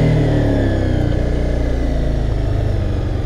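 A Honda CBR300 motorcycle engine revving on the throttle, a close, steady mid-pitched drone with a slight pitch drop as revs ease off, alone without talk.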